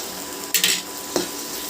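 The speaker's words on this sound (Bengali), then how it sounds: "এবার সব মশলাগুলো ভালো করে আমি ভেজে নেব" Ground cumin and coriander powder frying in a pan, a low steady sizzle broken by a few sharp clinks and scrapes of the spoon against the metal.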